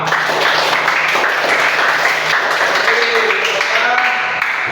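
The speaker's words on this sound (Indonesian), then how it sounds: "tepuk tangan kita semua" A group of school pupils and teachers clap together at a Pancasila gymnastics session, a dense, loud, continuous patter with faint voices and a low hum beneath it.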